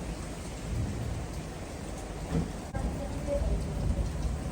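Steady rain pours over a village, a dense, continuous hiss of drops close by and fairly loud, with a brief thump midway and no voices.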